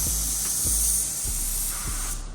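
Spray gun applying desert tan paint to a panel of a Monte Carlo SS, a steady hiss of atomized spray running continuously with faint low knocks underneath.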